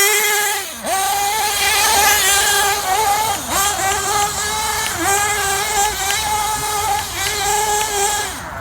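Losi 8ight nitro RC truggy engine held at wide-open full throttle, a loud, high buzzing whine with strong harmonics that dips briefly a few times and recovers, near and continuous, voices absent.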